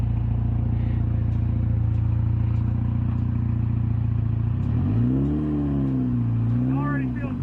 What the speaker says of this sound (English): Sounds like a Chevy.